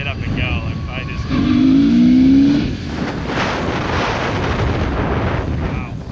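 A $350 BMW motorcycle, back on the road after two years unridden, revs hard and pulls away, its engine note rising in a loud, sustained surge for about a second before settling into steady riding noise and wind.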